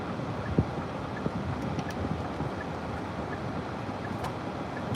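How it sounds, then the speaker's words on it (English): Steady broadband blowing from an air conditioner running indoors during Las Vegas heat, a constant airy hiss filling the background with no talk, a couple of faint clicks over it. "I'm sorry if the AC is blowing a little too loud in y'all ears"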